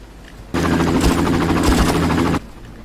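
A helicopter and gunfire burst out in the Far Cry video game as a loud, dense roar lasting about two seconds. Rapid shots rattle over the rotor noise, then cut off abruptly.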